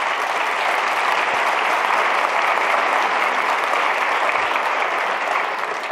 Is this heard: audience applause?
yes